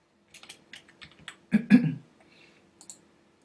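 Someone types on a computer keyboard while filling in a form, with a quick run of light, close key clicks and a couple of louder heavier strikes near the end.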